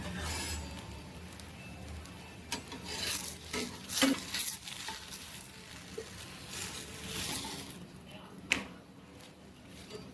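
A moong dal paneer paratha roasts on a hot pan, giving a soft, steady sizzle and faint scraping rasps with a few sharper clicks, close and quiet with no talk.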